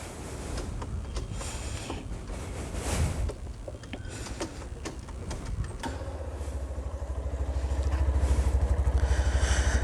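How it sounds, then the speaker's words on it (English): A BS6 Hero Xtreme 160R motorcycle with an oil-cooled fuel-injected engine idles in neutral, its exhaust putting out a steady close low thrum that grows louder and more evenly pulsed toward the end, with some handling noise early on. "coming to the exhaust sound, I'll put it to neutral"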